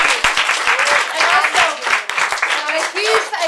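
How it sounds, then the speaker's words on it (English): Audience applause at a Salon Symphony concert, continuous close clapping with crowd noise and voices rising over it. "So a huge round of applause for them."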